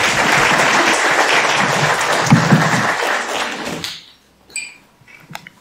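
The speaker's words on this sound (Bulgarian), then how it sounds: "Моля, аплодисменти за Христо Тончев!" An audience applauds a physics lecturer at a university lecture hall, dense sustained clapping filling the room for about four seconds, then fading to a few scattered claps and faint knocks.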